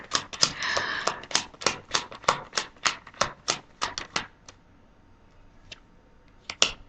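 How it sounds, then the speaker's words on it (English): Tarot cards being shuffled by hand, a rapid series of crisp papery slaps and riffles in a steady rhythm, close and fairly loud, thinning out into a few scattered taps. "I wish you would stop shuffling"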